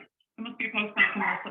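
A pet dog named Lola barks at the neighbours from inside a home, her short yips and barks mixed in with a person talking close by.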